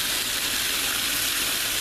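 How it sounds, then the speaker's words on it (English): A garden hose runs full on for washing a car outdoors, giving a steady, loud hiss and gush of spraying water with no break. "I turn my water on."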